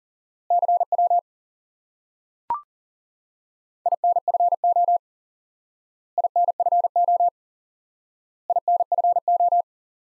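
Morse code CW tones sound in four short runs of clean, identical beeps separated by silences, with a single brief click between the first and second runs.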